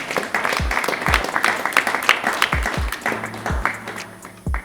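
A keynote audience applauds at a graduation-themed address, producing dense, sustained clapping that fills the space steadily and fairly loudly from start to finish, with a few louder claps standing out near the front.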